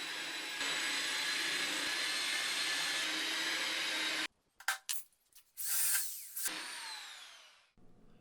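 A power tool whirs steadily for about four seconds while stripping undercoating from the wheel arch of a BMW E30 325i Touring, then stops and gives a few short bursts with gaps of near silence.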